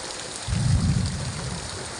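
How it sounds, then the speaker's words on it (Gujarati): Thunder rumbles low and heavy for about a second amid steady rainfall on a farm, the roll swelling quickly and then fading back into the constant hiss of rain. "ગાજવાનું ચાલુ કરી દીધું છે"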